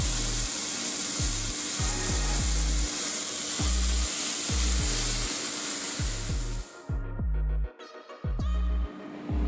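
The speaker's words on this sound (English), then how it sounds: "once I got that steak going in there, I added my peppers and onions into the pan" Steak, peppers and onions sizzling loudly in a hot frying pan, a steady crackling hiss with repeated clanks and scrapes of a utensil against the pan, close up.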